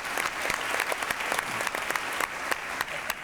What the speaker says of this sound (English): I think a round of applause for what you're doing here.